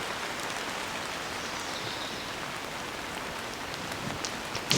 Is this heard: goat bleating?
no